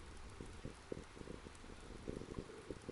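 Rain falls outdoors in a faint, steady hiss, with scattered heavier drops tapping irregularly on surfaces throughout.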